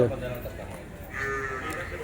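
A buffalo raised for fair breeding lets out a long, low moo in the second half, fairly close, after a brief stretch of farmyard noise.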